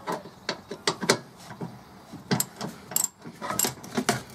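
A socket wrench ratchets during an oil change on a Fiat 500, giving quick close clicking bursts in uneven runs with short pauses between them, loud and nearby with no speech.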